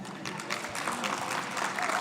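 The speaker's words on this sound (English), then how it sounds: "That seems to be a rather half-hearted applause." Brief, half-hearted applause from an education sector conference audience, scattered clapping at moderate level that builds slightly over two seconds.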